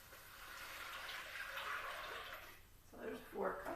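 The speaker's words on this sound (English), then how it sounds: "So we're going to add our broth to the pot." Broth pours into a soup pot for chicken noodle soup, a soft, fairly quiet liquid splashing and gurgling that swells in a couple of bursts toward the end.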